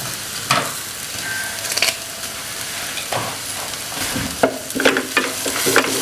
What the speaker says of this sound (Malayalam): ജസ്റ്റ് ഒന്ന് വഴറ്റി കൊടുക്കാം. ഇനി നമുക്ക് കുറച്ച് കറിവേപ്പിലയും കൂടെ ഇതിലേക്ക് ഇട്ട് കൊടുക്കാം